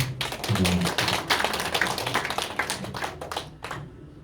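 Church congregation clapping for a member during a Sunday service, a dense burst of hand claps fading slightly toward the end, close and fairly loud.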